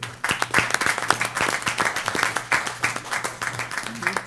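Meeting audience at an aeronautics commission gathering breaking into a few seconds of moderate applause, dense overlapping hand claps from a room of people, fairly close.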